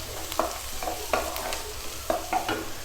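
Sliced onions sauté slowly in a pan over a low flame, making a soft continuous sizzle. A few light scrapes and taps of a spoon stand out now and then.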